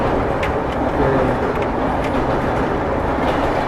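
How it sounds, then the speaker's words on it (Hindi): The Maharashtra Sampark Kranti Express, running Delhi to Mumbai, crosses the Vaitarna river bridge, a loud, continuous rumble and roar of wheels on rail with faint periodic clicks, close by and steady throughout. "अपनी महाराष्ट्र संपर्क क्रांति एक्सप्रेस गुजर रही है"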